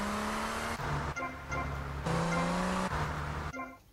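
A Ferrari in GTA Vice City driving off, its engine droning with steady tones that rise and shift through gear changes, close and continuous for a few seconds.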